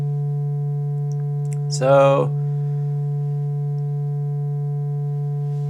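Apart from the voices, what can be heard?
Doepfer A-110-4 VCO near-sine waveform tone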